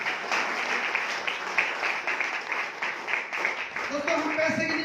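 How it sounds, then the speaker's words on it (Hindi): A seminar audience applauds the management at a hall event in Narnaul, with steady, dense clapping running throughout and a voice talking over it toward the end. "मैं चाहूंगा एक बार मैनेजमेंट के लिए जोरदार तालियां बजाएं"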